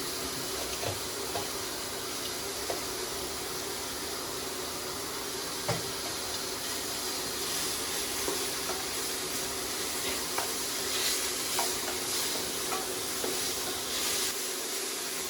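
Chopped tomatoes sizzle steadily in a pan with salt for a dhaba-style paneer masala gravy, a continuous close hiss of frying with occasional soft clicks of stirring and no talking.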